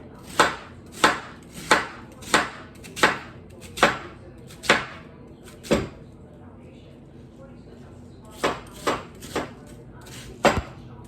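A large onion being chopped with a knife on a cutting board for meatloaf: a steady run of about eight sharp, close chops, a short pause, then several more crisp cuts.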